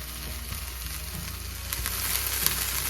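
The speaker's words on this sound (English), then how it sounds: "I'm just sauteing the veggies here for about 5 to 10 minutes." Carrots and other chopped vegetables sauté in a pan for fried rice, a soft, continuous sizzle with light stirring taps, heard alone and fairly quiet.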